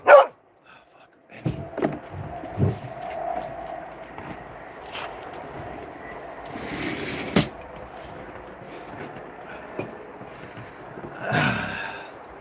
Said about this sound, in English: Sometimes that dog just drives me freaking bonkers, man.